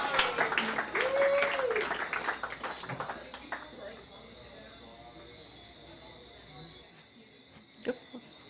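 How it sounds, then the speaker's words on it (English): Soft applause from an audience at a coral and octocoral science talk, a brief round of clapping that fades over a few seconds and gives way to quiet room noise. "Let's give a soft round of applause for Lindsay Huebner."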